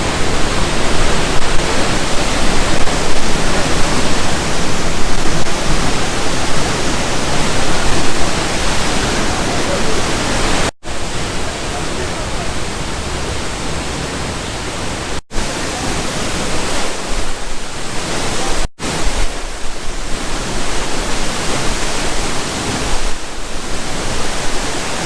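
Palovit waterfall pouring down as a loud, dense, steady roar of falling water close by, unbroken except for a few abrupt cuts.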